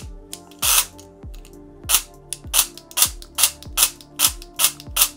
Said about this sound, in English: Very snappy semi-auto and respectable full auto rate